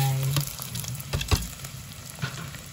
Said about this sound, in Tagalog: Lagay na po natin ang ating red rice.